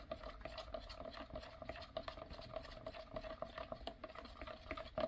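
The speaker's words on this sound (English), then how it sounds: "let's give it a real quick stir and see what that does" Quick stirring of a mixture in a container for a planter project, a steady run of scraping and clinking strokes with a faint constant hum underneath, no voices.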